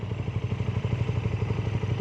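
A motorcycle engine runs with a steady, rapid pulsing beat, close and fairly loud, on a touring ride through Snowdonia in Wales.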